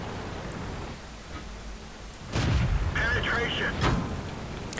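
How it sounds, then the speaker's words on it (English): Tank shell ricocheting off armor in World of Tanks, a heavy booming impact with a metallic clang and ringing tail, loud and close, with a voice talking around it. "the shot ricocheted off my armor"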